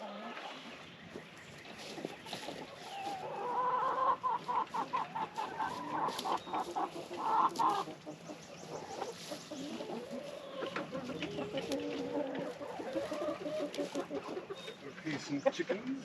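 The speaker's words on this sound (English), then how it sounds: "Some chickens." Several backyard chickens cluck and murmur in a continuous, busy chatter, close and fairly quiet, with people speaking in the background.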